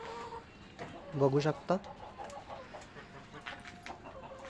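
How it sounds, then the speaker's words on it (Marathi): Chickens on a rooftop farm let out a short burst of clucking and squawks midway, with someone talking nearby before and after. "हे आपल्या कोंबड्या आहे"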